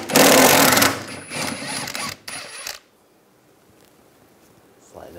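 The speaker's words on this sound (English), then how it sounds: "Using a 14 millimeter socket, take this bolt out." A power tool with a 14 mm socket whirs loudly for nearly three seconds to remove a bolt during rear strut and spring replacement on a 2004-2009 Toyota Prius, in bursts with brief pauses, then stops into near silence.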